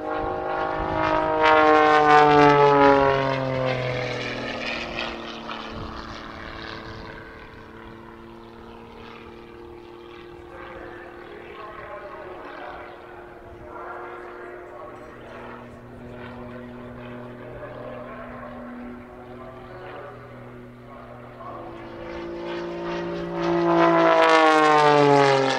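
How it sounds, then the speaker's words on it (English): Propeller aircraft performing snap rolls at the Southport Airshow, its engine drone loud and near at first, fading into a distant sustained hum with shifting pitch, then swelling loud again as it passes close at the end. "Very dramatic snap rolls there, using the aircraft's enormous control surfaces"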